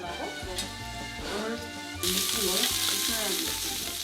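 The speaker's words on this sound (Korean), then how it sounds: "삼겹살 익어가는 소리만 들어도 벌써 군침이 돌죠?" Samgyeopsal pork belly sizzles and crackles as it cooks, a steady close frying hiss that grows louder partway through, with background music playing over it.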